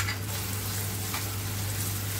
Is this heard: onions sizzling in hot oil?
yes